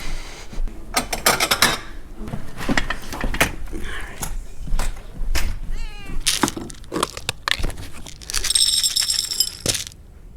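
A cat meows several times in a short, close burst amid clattering handling noises and knocks beside a freshwater fishing and cooking camp, with no talking.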